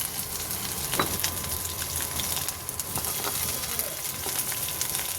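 Crushed ginger, dried chillies and bay leaf fry in hot oil, a continuous close crackling sizzle with a few sharper pops.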